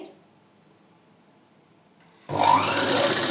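A sewing machine stitching thread piping on fabric starts up after a near-silent pause and runs at a fast, steady, loud whir close by.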